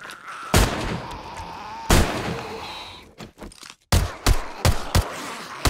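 Loud gunfire from the zombie survival game 7 Days to Die (Ravenhearst mod) during a horde night, with several sharp shots in a loose, uneven rhythm and short gaps between them.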